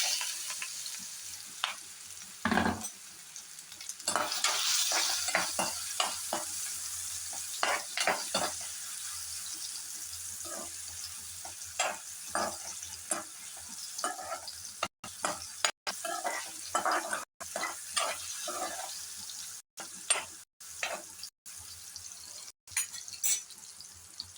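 Ripe banana pieces are stirred and fried in a pan with green chillies for Kerala pulissery, making a continuous close sizzle with repeated scraping spoon strokes, loud and busy throughout, no talk.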